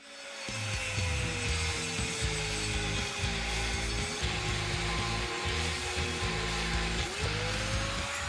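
Scrap metal being cut to make a homemade bearing and pulley puller: a loud, continuous power-tool whine with a steady rhythmic grinding chatter, running without pause and with no talking.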